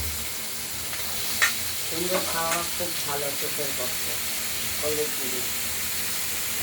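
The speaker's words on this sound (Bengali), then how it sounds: "এবার কুমড়োগুলো আমরা সর্ষে লঙ্কা ফোড়নের মধ্যে ভাজা ভাজা করব" Pumpkin strips fry in hot oil with a mustard-seed and green chili tempering, giving a steady close sizzle with stirring scrapes and a brief sharp pop, while a voice talks intermittently over it.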